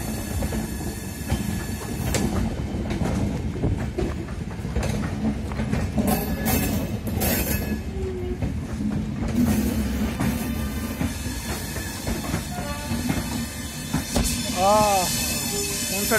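The Santragachi-Pune Humsafar Express pulls into Nagpur Junction, with continuous rumbling and rhythmic wheel clatter over rail joints, squealing metal near the end, and people talking in the background throughout.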